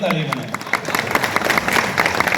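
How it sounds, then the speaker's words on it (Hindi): A crowd claps together at a Rajasthani comic poetry gathering (hasya kavi sammelan) in Ratangarh. The applause is loud and dense with sharp individual claps, and a voice briefly overlaps it at the start. "मेरे लिए स्पेशल ताली बनाए"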